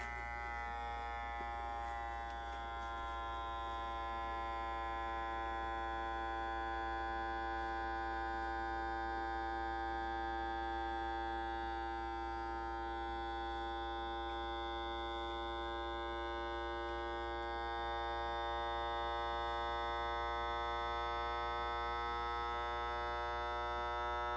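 A vacuum sealer pump sucking air from a container of freeze-dried cranberries drones with a steady buzzing pitch, holding even and loud throughout with no voices.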